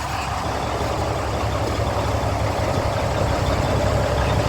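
Truck engine idling near a wrecker, a close, loud, steady diesel rumble with an even low throb and no breaks, no talking.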